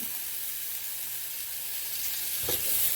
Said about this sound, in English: now that our onions are just about translucent